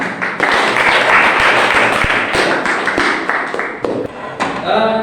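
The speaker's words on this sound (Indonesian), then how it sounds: "Kasih tepuk tangan." Audience applause in a classroom, loud close clapping with sharp individual slaps and thumps standing out from the steady wash, fairly even throughout.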